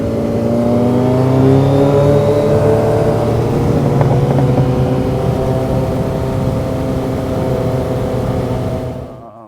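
A Suzuki Hayabusa motorcycle revs loudly up close and pulls away, its engine note climbing steadily in pitch before fading out abruptly at the end.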